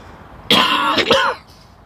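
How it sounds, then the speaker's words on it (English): A single rough cough, close and dry, breaks into two quick bursts before trailing off into quiet. "The cough's back in it."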